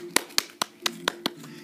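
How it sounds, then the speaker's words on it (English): Six sharp hand claps, close and fairly loud, spaced about a quarter second apart in an even rhythm over a faint background hum. "Everybody clap."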